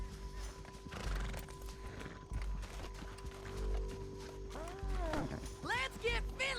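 A horse neighs and whinnies loudly in the video game Red Dead Redemption 2, with clip-clopping hooves and a steady electronic hum underneath.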